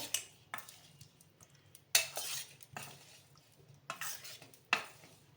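Potatoes are stirred in a pan for lasan bateta, with a utensil scraping and clattering against the metal in several distinct strokes over a light sizzle.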